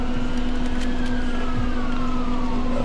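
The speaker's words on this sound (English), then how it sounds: "Sirens, woo, emergency" Emergency vehicle siren wailing past a workshop where engine manifold bolts are being welded, its sweeping tone steady and fairly loud over a constant low hum.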